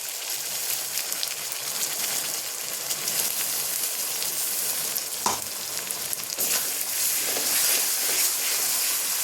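Paste of ginger, garlic, green chili and whole cumin hitting hot oil in a pan for a loiţa fish curry, setting off a loud, steady broadband sizzle that holds throughout with a few brief spits and crackles.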